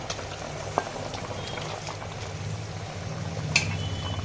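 Hilsa fish curry with slit green chillies and brinjal simmering in a pot, a steady close bubbling hiss with a couple of faint clinks, no voices.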